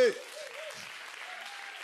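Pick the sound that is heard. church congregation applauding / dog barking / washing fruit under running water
church congregation applauding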